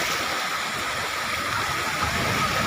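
Water rushes at a beach in Surat with a steady, continuous roar that stays close and loud throughout, without breaks.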